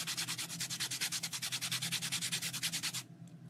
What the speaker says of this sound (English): with some sanding paper, fine grit